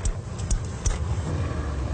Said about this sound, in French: Elle est démente ta voiture.